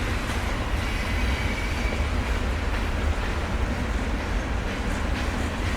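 Steady low rumble of a CSX train rolling past at Lander, Maryland, loud and continuous with a constant broadband roar and no voices.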